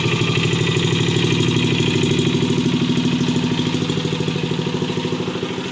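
A new engine fitted to a Yerf-Dog go-kart runs at a steady idle, a loud, close, even chugging clatter that slows slightly toward the end, with no talk.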